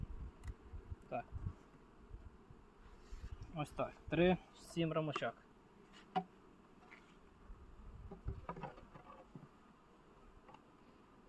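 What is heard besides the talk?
honey bees buzzing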